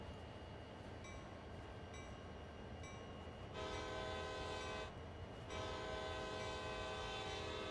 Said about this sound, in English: Horn and bell are typical to Train Sim World.